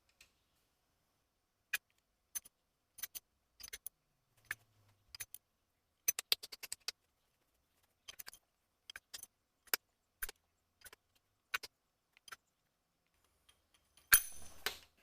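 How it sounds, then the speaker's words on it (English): Metal pushrods from an LS 5.3 V8, dipped in assembly lube, clink as they are dropped one by one into the engine during a camshaft swap, producing sparse, sharp metallic ticks spread irregularly over the span, with a denser rattle at the end. "Time to put our push rods back in."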